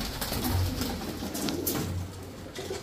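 Pigeons cooing in a loft among a seller's Pakistani Teddy, Kamargar, Golden, Damascene and Budapest breeds, several soft throaty coos repeating close by over constant chirping and rustling bird noise, with no talk.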